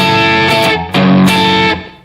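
An electric guitar played through a Headrush MX5 with a tube screamer and bright fuzz gives loud, thick distorted chords, struck twice with a brief gap between them and ringing out before fading.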